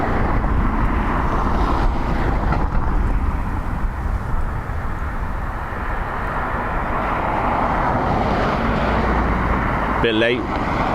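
An Airbus A330 airliner arrives at Dublin Airport in windy conditions, a loud, broad, continuous jet roar blended with gusting wind across the microphone, with a brief sharp noise near the end.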